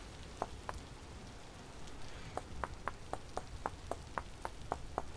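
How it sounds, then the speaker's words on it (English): Steady rain falls in the video game Vintage Story, a soft continuous hiss beneath a run of sharp, evenly spaced taps that come mostly in the second half. "It's just been non-stop rain the past few days"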